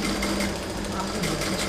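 Sewing machine stitching a seam about 0.5 mm from the edge, a steady, continuous mechanical whir close by with a person speaking over it throughout.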